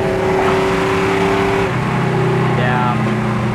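A 1969 Oldsmobile Cutlass Supreme with a built transmission accelerates at highway speed. Its engine drones loud and close with a steady rising tone, a shift change partway through, and road noise underneath.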